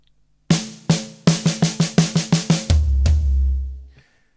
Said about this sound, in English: Most of it's on the snare drum. It sounds like this.